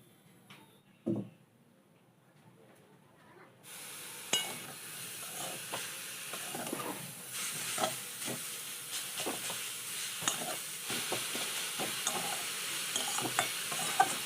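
Jaggery stirred into a pan while making kadam pitha: after a quiet start with one knock, a steady sizzling hiss sets in with repeated scraping stirs.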